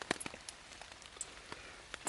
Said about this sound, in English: It's still raining a little bit.